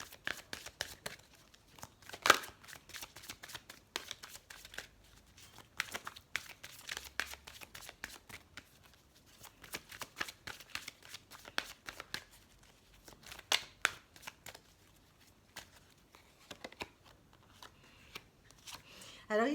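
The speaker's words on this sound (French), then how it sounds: "on va tirer quelques cartes de l'oracle des chakras du cœur." Oracle cards of the heart chakras being shuffled and drawn, a close run of quick papery flicks and riffles with sharp clicks, steady through the clip with soft pauses between bursts.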